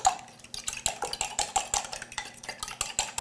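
Spaetzle batter of milk and salt being beaten in a bowl, a quick rhythmic series of whisk or spoon strokes clicking against the bowl, close and steady for a few seconds.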